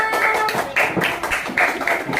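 Students in a classroom clap for a group that has just presented, a short burst of uneven, close hand claps in loose bursts with no speech over them.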